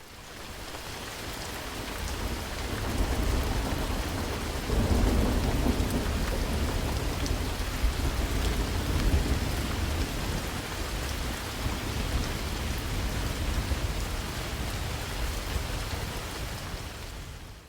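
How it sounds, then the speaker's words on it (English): Mixed and mastered rain and thunderstorm recording: steady, wide rainfall hiss with low rolling thunder swelling from about four seconds and rumbling on throughout, loud and continuous with no voices. "You can hear how much more immersive it is, how much wider the rain sounds, and it feels like it's surrounding you, and how the thunder sits really nicely."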